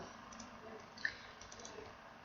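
A computer mouse clicks while working in the Pixlr image editor, a single faint sharp click standing out in a quiet room amid a few softer ticks.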